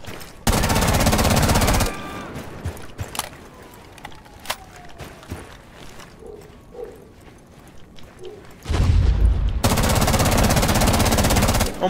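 Automatic gunfire in the video game Rainbow Six Siege, two loud sustained bursts at the start and end framing quieter stretches of scattered clicks, footsteps and movement, with no talk.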